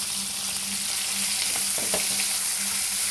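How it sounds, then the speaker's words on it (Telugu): Onion, green chilli and curry leaves frying in hot oil with garlic, a steady loud sizzle with a few brief scraping stirs midway, no voices. "వెల్లుల్లిపాయలు వేగాక మనం ఆనియన్ వేసుకోవాలి. ఆనియన్, పచ్చిమిర్చి, కరివేపాకు వేసుకోవాలండి."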